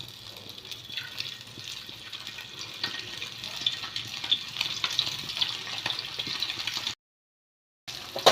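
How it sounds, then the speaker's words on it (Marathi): Semolina-coated fish frying in hot oil in a pan: a continuous close sizzle with crackling pops, briefly cut to silence before resuming, and no voices. "आता आपण त्या मच्छी सोडून घेऊ."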